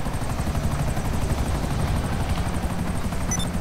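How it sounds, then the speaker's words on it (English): Helicopter in the GTA video game, a close, loud continuous rotor chop with a steady rhythmic thumping and engine whine, heard alone without talk. "And it's helicopter."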